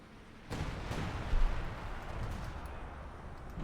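A sniper rifle fires in the Company of Heroes 2 video game: one sharp crack cuts in, then fades into a low rumble of ongoing battlefield gunfire and explosions.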